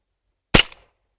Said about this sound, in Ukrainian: Відстрілюю дві кульки в хронограф, показую швидкість